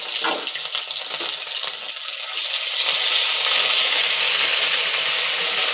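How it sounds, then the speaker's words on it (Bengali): Water poured into ginger and green chilli paste frying in a pan for a Bengali fish curry gives a loud, steady hiss and sizzle that swells and holds over the last few seconds, with no voices. "আর এর মধ্যে যাতে মশলাটা পুড়ে না যায় তার জন্য দেবো একটু সামান্য জল।"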